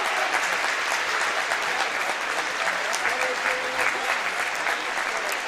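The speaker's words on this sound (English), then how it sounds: "big round of applause here for seniors Maddox Dorman, Gavin Dorman, Ethan Harmon," Steady applause from a high school basketball crowd in a district tournament gym as seniors are honored, broad and sustained clapping throughout with a faint voice briefly underneath.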